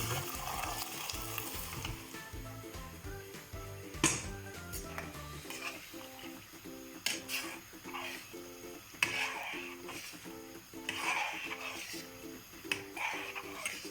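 A pot of Turkish dried beans boils on the stove with a steady close bubbling and sizzling simmer, broken by a few sharp clinks of a utensil against the pot, and no speech.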